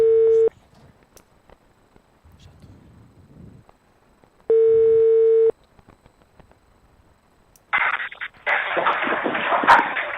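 Two steady telephone ringback tones, each about a second long and separated by quiet, while a call is placed to a classmate, followed by a burst of noisy line or voice sound as the call connects.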